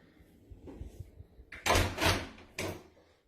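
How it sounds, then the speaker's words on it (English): A door is handled with a few soft knocks, then a loud rattling scrape and clatter as it is opened and shut, followed by one more brief bang, all close by in a quiet room. "I just lock the door back again."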